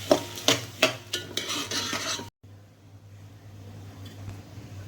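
Rice is stir-fried in ghee with cardamom and cinnamon, with several quick scraping stirs against the pan over a sizzle, then a short pause before a quieter, steady frying hiss continues.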